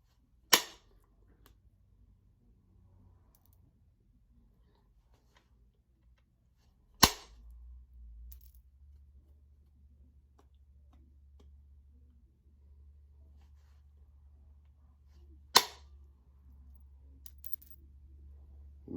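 Stone struck while knapping an arrowhead, three sharp isolated cracks spaced several seconds apart over a quiet low hum, close and crisp with no talking.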